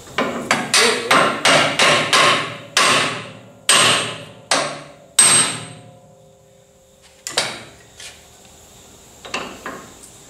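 A hammer taps down a bearing on a zero-turn mower deck: a quick run of sharp metallic strikes, then a few slower, spaced blows, close and loud with no talking.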